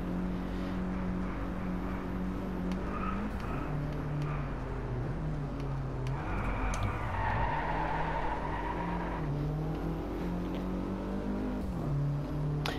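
A Mercedes-Benz CLA 45 AMG engine revs up and down, a steady, loud, close droning note whose pitch climbs and drops several times without a break, with no voices.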